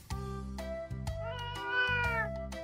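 A cat meows repeatedly in a clear, close series of drawn-out, rising and falling calls, loud and alone with no talking.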